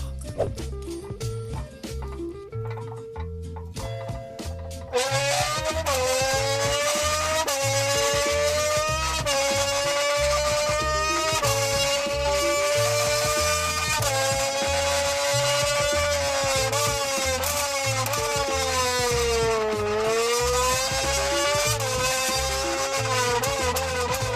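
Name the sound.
voice imitating Formula 1 car engine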